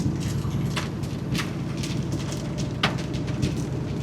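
Hail strikes a car during a storm, with scattered sharp ticks and smacks on the fiberglass hood and roof over a steady low rumble of rain and wind, the hits irregular and moderately close.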